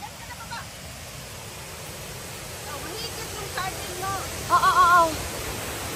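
Rushing water at Thousand Layers Waterfalls in a stream setting makes a steady broadband roar throughout, with people talking faintly beneath it and a brief voice near the end.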